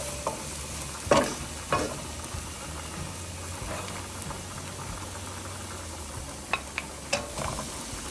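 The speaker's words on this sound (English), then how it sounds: "Once the onions turn translucent, then you can go ahead and add the ground beef." Ground beef fries with translucent onions in a pan for a tomato pasta, stirred as it breaks apart: a constant soft sizzle with sharp spoon scrapes and clatters near the start and again toward the end.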